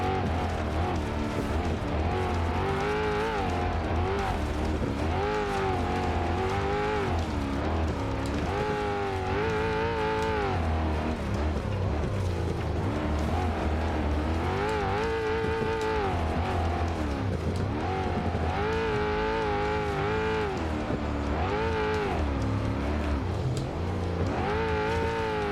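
A racing car engine in the video game BeamNG.drive roars and revs continuously on a King of the Hammers desert lap, pitch rising and falling through gear changes, loud and close throughout with no talking.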